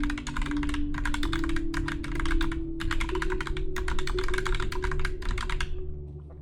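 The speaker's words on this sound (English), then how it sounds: "I'm typing like letter by letter instead of like word by word" Fast letter-by-letter typing on a computer keyboard in close bursts of crisp key clicks with brief pauses between them, over a steady low hum.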